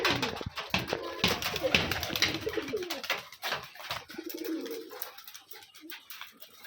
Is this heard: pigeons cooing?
yes